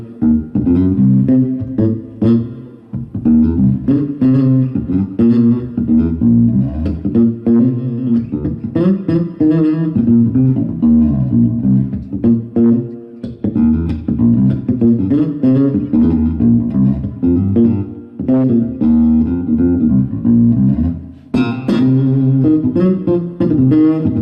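An electric bass guitar plays a busy, sliding, bluesy line at a clinic. Notes glide and bend in a continuous, loud, close groove, with no talking over it.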